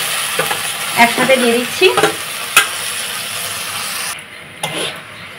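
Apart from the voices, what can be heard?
frying and stirring chilli, onion, tomato and spices in pan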